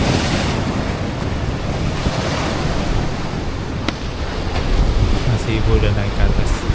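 Ocean waves surge onto a beach in southern Bali, a loud continuous wash of surf heavily buffeted by wind on the microphone, with occasional faint voices.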